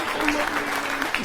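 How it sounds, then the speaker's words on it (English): A studio audience claps steadily through the whole moment, a dense close round of applause at a motoring show's prize announcement, with a voice speaking over it. "Round of applause for Anthony Curry, our first winner for that"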